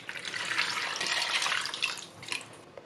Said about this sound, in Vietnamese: Quan trọng đó là mình phải rửa cá cho thiệt sạch để không bị tanh.